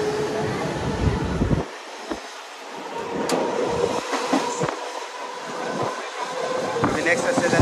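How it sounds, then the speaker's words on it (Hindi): A Mumbai local train runs between Vidyavihar and Ghatkopar, with steady rolling rumble, rail clatter and intermittent clicks and screeches heard from on board, close and continuous. "विद्या विहार से ट्रेन रनिंग हो चुकी है"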